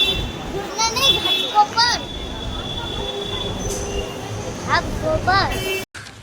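A Mumbai metro train at Ghatkopar station rumbles alongside the platform, wheels squealing in repeated rising whines over a steady rolling roar. Crowd noise and voices sit in the background before an abrupt cut.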